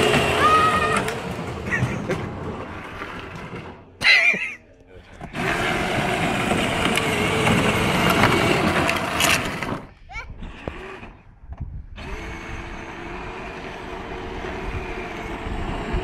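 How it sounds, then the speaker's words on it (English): A battery-modified Power Wheels Jeep spinning its tires, a loud electric motor whine and tire scrub in long runs broken by short pauses, with people talking over it. "It's just spinning the tires the whole time."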